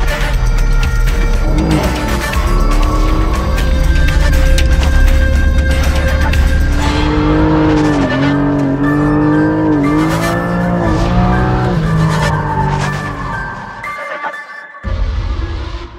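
A 420-horsepower Porsche Cayman GT4 on a race track accelerates out of corners, its engine note rising and falling with gear changes amid tire squeal and loud onboard mechanical roar throughout.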